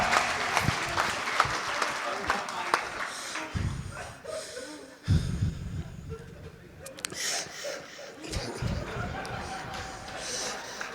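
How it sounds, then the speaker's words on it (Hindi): Audience applause at a kavi sammelan poetry gathering at a festival in Hapur, bursts of clapping from a crowd rising and falling over several seconds, with some voices in the background. "एक जोरदार तालियां भाई,"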